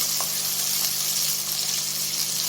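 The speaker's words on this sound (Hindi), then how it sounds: "तो अब हमने इस तरह मोटा मोटा प्याज काट के तो इसमें शामिल कर देना है। थोड़ी देर प्याज को फ्राई कर लेंगे।" Thickly cut onion frying in hot oil for dal, a steady dense sizzling hiss holding at an even level throughout, with no voices.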